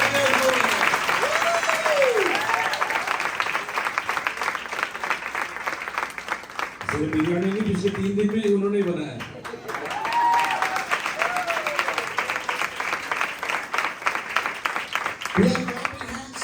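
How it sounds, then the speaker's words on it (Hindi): Crowd applause at a church worship service, sustained clapping throughout while someone talks over it loudly. "Give her applause. ताली बजाओ।"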